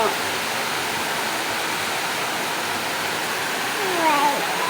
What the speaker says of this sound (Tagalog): ang lalim na ng baha